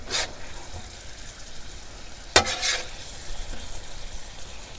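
Fajitas with seasoning are stirred on a Blackstone griddle: two quick spatula scrapes stand out over a faint, steady sizzle, with no talking.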